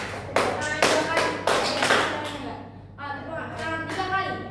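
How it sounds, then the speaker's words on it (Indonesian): Elementary pupils clap their hands twice on cue, crisp close claps in quick clusters, followed by a teacher's voice speaking over quieter background. "Tepuk tangan 2 kali."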